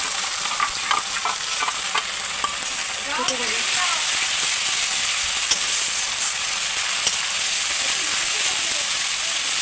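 Spices and oil sizzle in a pan for a Bengali chicken dish, a steady close frying hiss broken by repeated scraping stirs of the spatula.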